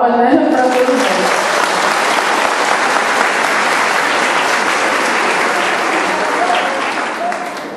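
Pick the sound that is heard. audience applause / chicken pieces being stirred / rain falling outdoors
audience applause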